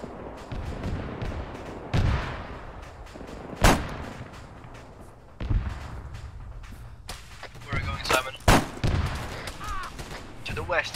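Gunfire in Arma 3 cracks out in scattered loud shots and short bursts, some near and some more distant, over a constant rumbling battlefield background.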